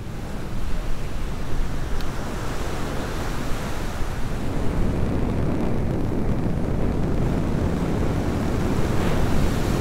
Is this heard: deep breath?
no